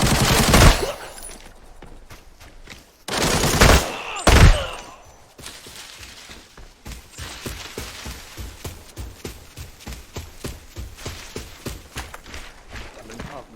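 Gunfire in the shooter game Arena Breakout: loud, close bursts at the start and two more heavy volleys a few seconds later, then a long run of quieter, rapid, rhythmic thuds.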